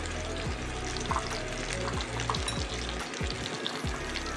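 Finely chopped young bottle gourd frying in mustard oil over low flame, a close, soft, even sizzle with faint stirring sounds and a low rhythmic background hum, no talking.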